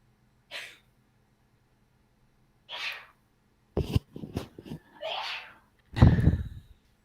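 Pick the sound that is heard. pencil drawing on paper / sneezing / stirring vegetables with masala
sneezing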